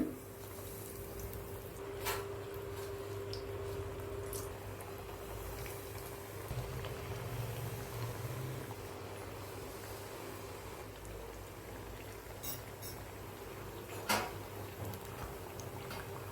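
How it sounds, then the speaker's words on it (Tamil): Tapioca cutlets fry in hot oil in a pan with a faint, even sizzle that runs throughout, with a couple of light clicks and no talk. "ஒரு பேனில் எண்ணெய் ஊற்றி சூடியரிச்சு பாருங்கள் அந்த எண்ணெயில் போட்டுக்கோங்க"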